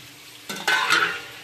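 Chicken curry with potatoes being stirred in a pot, a quiet background followed by two quick scraping stirs that bring up a brief burst of sizzle, close and short.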